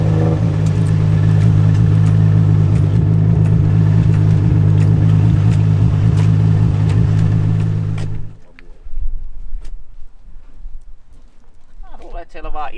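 A race car engine drones loud and steady with a strong low hum on a track for about eight seconds, then cuts away to quieter sounds and talking.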